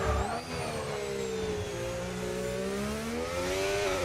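McLaren Formula 1 cars run on track at Bahrain pre-season testing, a continuous high engine whine that rises and shifts pitch through gear changes and stays loud and close throughout.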